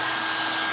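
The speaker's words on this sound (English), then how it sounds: "So the heat gun moves the epoxy around." A heat gun blows steadily on epoxy, a close, continuous airy whoosh with even loudness and no pauses.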